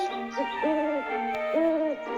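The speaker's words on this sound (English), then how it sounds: "the owl is hooting" An owl hoots in two drawn-out, wavering calls separated by a short pause, clear and fairly close with no other voices.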